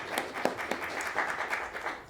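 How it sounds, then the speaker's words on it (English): Steady audience applause for the CHAP team at a talk on graphic installations and social justice, moderately loud with dense overlapping claps over a brief stretch. "Please, a big round of applause to the Chap team here"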